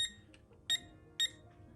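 A Mint House kitchen timer gives two short, bright electronic beeps about half a second apart, close and clear against a quiet room.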